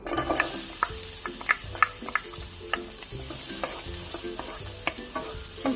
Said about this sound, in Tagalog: Saute lang natin for a few minutes.